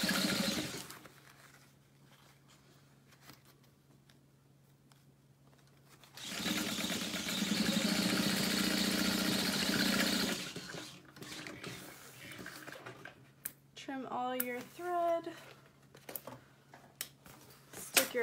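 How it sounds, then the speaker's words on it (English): A sewing machine stitches a waterproof canvas pouch shut, its steady mechanical whir running in a burst of several seconds between quieter handling, with brief voices near the end. "And we're going to sew that shut."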